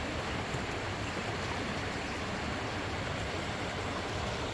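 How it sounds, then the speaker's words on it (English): A river flows steadily nearby, a loud, uniform rushing wash of water that continues unchanged with no voices. "I'm here sitting by this river"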